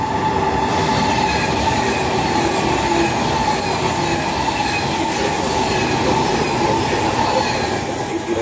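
Trenitalia Frecciarossa high-speed train rolling into Roma Tiburtina station with loud, continuous rumbling, rail clatter and a faint wheel squeal, steady and close throughout.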